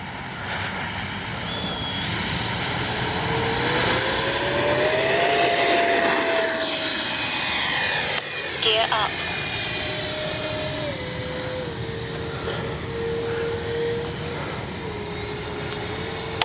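A Freewing Mirage 2000 RC jet with electric ducted fan flying overhead, a loud sustained whine that rises and falls in pitch as it passes and throttles, with a brief burst of reverse thrust partway through.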